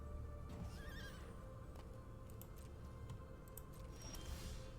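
A horse whinnies in MTG Arena with a wavering neigh near the start, followed by clip-clop hoof taps and light ticking game effects over a low background hum.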